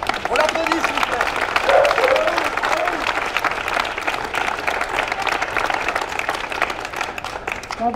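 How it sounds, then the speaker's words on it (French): Applause from an audience at a street march in Bordeaux, dense continuous clapping mixed with crowd voices and some cheering, loud and sustained throughout, with the crowd murmuring beneath. "On l'applaudit, s'il vous plaît."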